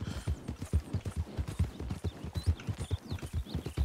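Horse hooves clip-clop in a steady, even rhythm in the RedM Western video game, close and fairly loud, with no talk over them.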